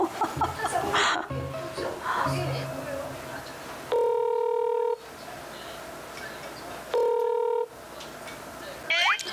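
A telephone call is placed, with two long, steady electronic tones sounding a few seconds apart and rising clearly above a background of talking and room noise.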